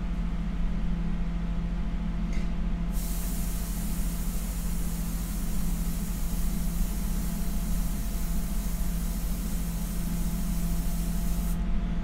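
Airbrush spraying India ink onto paper, a continuous close, loud hiss that starts abruptly and runs steadily for several seconds before cutting off, over a constant low compressor hum.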